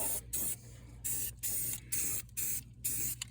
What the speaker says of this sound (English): pick yourself up a can of spray paint, and there you go.